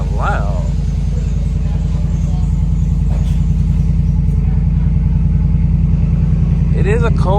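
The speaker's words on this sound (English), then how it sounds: "It is a cold start and it seemed kind of damn shaky" A Ford F-150 pickup idles just after a cold start, a loud, close, steady low rumble with a slightly shaky, uneven pulse throughout, with brief bits of people talking over it.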